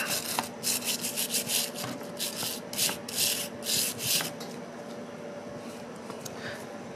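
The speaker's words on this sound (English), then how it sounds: "So, I guess I'll just continue to scrape." Scraping a Rochester Quadrajet 4MV carburetor part by hand, repeated short rasping strokes in an irregular rhythm, close and fairly quiet, tapering off toward the end.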